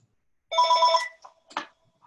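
A single telephone ring sounds in a quiet indoor room, a short harmonic bell-like burst followed by a couple of brief softer electronic tones, close and fairly loud with no talking.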